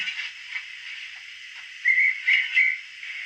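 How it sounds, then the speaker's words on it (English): A model steam locomotive's digital sound chip plays a steam whistle, three short high toots in quick succession over a constant soft hiss. "Whistle."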